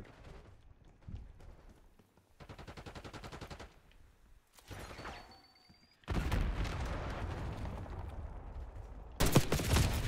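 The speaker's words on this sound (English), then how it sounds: "they had a sniper rifle" Rifle gunfire in a Call of Duty multiplayer match, with scattered shots early on, then a dense loud stretch of rapid firing and a sharp burst near the end.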